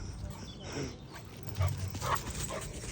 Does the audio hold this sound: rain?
no